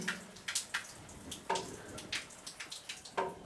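Hot water running from an instant electric water heater tap, a soft splashing stream with irregular drips and spatters, fairly quiet and close, with no talk.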